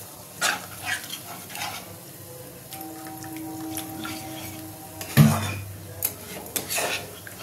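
Spice masala sizzles in a pan as a little water is added for a butter paneer dish, giving a sudden loud hiss burst midway amid scraping spatula stirring and clinks against the pan.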